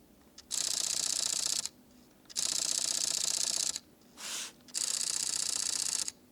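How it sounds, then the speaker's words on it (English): A high-speed burst of Fujifilm X-T5 mirrorless camera shutter clicks fires in three rapid bursts, separated by short pauses and a brief softer whir, close and crisp with no talking. "bring in something like the XT5, which has a buttery smooth shutter"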